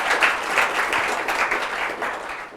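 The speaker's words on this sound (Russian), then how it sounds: "Давайте, пожалуйста, им похлопаем всем." An audience applauds organizers of a New Year's party, a steady dense wash of many hands clapping together, sustained and fairly loud throughout with no talk over it.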